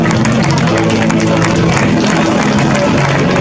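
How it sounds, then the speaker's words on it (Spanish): A regatta crowd applauds a rowing crew from the Donostiarra club as the boat comes in, with loud, dense clapping and cheering close by and steady throughout. "Ese aplauso también para la Donostiarra que hace su entrada ya"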